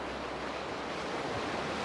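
Big ocean surf roars as a steady, broad wash of breaking waves, continuous and fairly loud with wind rushing across it and no voices.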